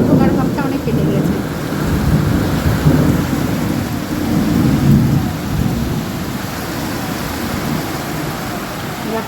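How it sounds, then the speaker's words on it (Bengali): Heavy downpour during a thunderstorm with lightning, a dense roar of rain with deep low rumbles of thunder swelling and fading, loud and close, indoors with no talking. "মুসল ধারে বৃষ্টি হচ্ছে, একদম বিদ্যুৎও চমকাচ্ছে।"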